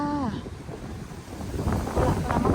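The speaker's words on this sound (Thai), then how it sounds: "ลมมาก" Strong storm wind buffets the microphone in New Zealand, a steady broadband roar with heavier gusts toward the end, with a brief voice at the start.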